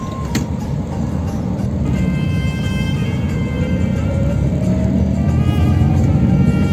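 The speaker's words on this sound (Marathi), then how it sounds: "आत्ताच इथंच शिवापूरच्या अलीकडेच खूप ट्रॅफिक लागले" Heavy road traffic near the Shivapur toll plaza on the Pune–Satara road, heard from inside a vehicle: a continuous engine rumble with passing vehicles, a brief beep early on and whining motors rising in pitch, growing gradually louder.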